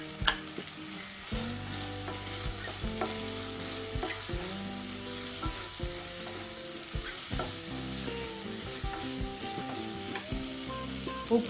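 Chopped capsicum sizzles and fries in a pan with spices, with steady crackling and occasional spoon scrapes from stirring, close and continuous.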